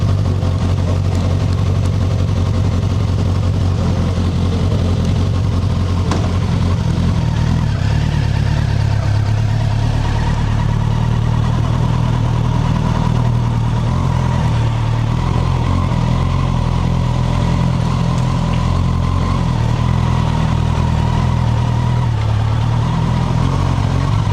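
A Suzuki GSX-S1000F motorcycle with about 18,800 km on it runs steadily nearby, its engine a continuous, loud, even mechanical hum and clatter without a break.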